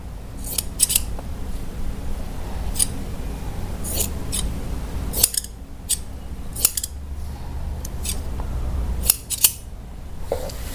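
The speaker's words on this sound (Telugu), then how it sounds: "మార్కర్ ఇట్లా మనం మార్క్ పెట్టుకొని లైన్ పైనుంచి వెళ్ళి కట్ చేయండి" Scissors snip through blouse fabric along a marked line, a series of crisp, close cuts and shearing crunches in irregular bursts, with faint handling noise between them.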